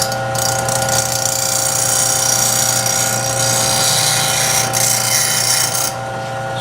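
Steady, loud grinding of a hollowing tool held against a wheel to form a back bevel, a continuous whirring hum with a bright metallic edge that runs unbroken before easing slightly at the end.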